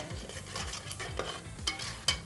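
Masala gravy simmers and sizzles in a pan on a cookery show while a spoon stirs it in steady, repeated scraping strokes, close up and with no talking.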